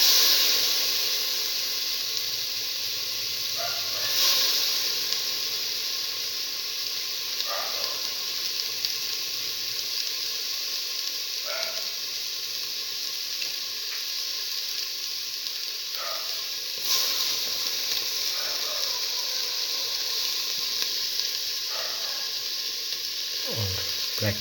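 Split black lentils, urad dal, sizzling in a hot pan: a continuous bright frying hiss with small crackles and occasional stirring scrapes, steady and close throughout with no voices.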